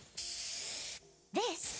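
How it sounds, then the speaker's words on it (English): In the video game Neverness to Everness, a can of Fluffy Tail Hairspray lets out one sharp, close hiss lasting under a second. A character speaks right after it. "One spray to victory, Fluffy Tail Hairspray."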